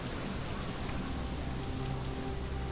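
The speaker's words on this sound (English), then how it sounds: "Foul, oily water rains down from above, mixes with the filth and offal and swill of the streets" Steady rain patters continuously on hard street surfaces in the video game Shadowrun Hong Kong, a dense even hiss with no voices.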